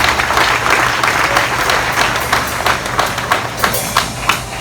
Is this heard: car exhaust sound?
no